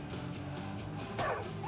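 A dog bark in the Far Cry 5 video game, one sharp loud burst partway through over busy game sound and music.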